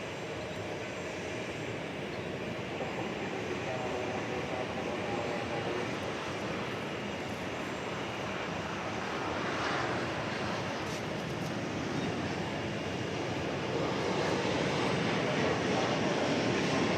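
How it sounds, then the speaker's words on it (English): An Airbus A321 jet idles on a taxiway at DFW Airport, giving a faint, distant, steady engine roar that holds evenly throughout, with no break or change. "I'm still keeping an eye on that A321, which is still sitting out there on a taxiway."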